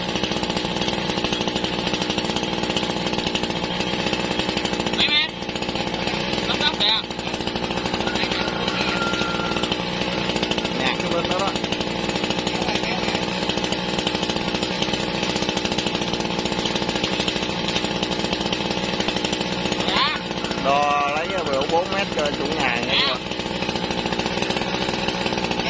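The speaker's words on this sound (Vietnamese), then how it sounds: "chú mình leo lên cưa một đoạn nữa cho nó ngắn lại" A G4500 chainsaw cuts through a huge dầu tree high up the trunk near Ba Chúc market. The engine roars loud and unbroken throughout, with only small shifts in pitch as it bites into the wood.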